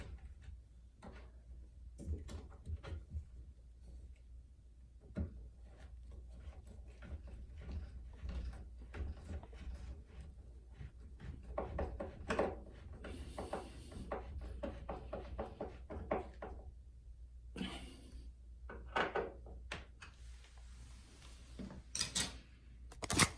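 A screw is driven into a wooden cabinet hinge with a quiet, close string of irregular ratcheting clicks and creaks that come in uneven bursts over a faint background.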